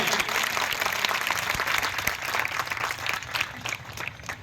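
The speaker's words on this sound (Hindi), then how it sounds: "इनके लिए मैं गुजारिश करूंगा कि एक जोरदार ताली आप सभी बजाइए।" An audience at a Jashn-e-Milad honour ceremony breaks into loud, dense applause that holds steady for several seconds, a crowd of hands clapping together close by.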